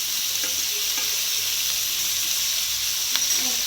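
Fish fries in melting butter in a pan, giving a steady, loud, close sizzle with a few soft clinks and stirring touches.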